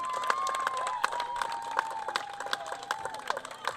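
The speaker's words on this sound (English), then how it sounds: "fans are cheering her back into position" Fans at a 10U girls' youth softball championship game cheer and clap, a moderate crowd noise with steady clapping, shouts and children's voices, while a sustained whistle-like tone runs through it.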